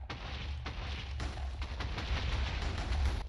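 Rapid, repeated explosion blasts from a magic ability in the Minecraft Seven Deadly Sins mod, a dense run of booming bursts with no talk over them.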